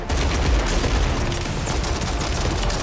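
Dual-wielded pistols fire in Warzone, a rapid continuous run of loud shots, close and unbroken, with no voices.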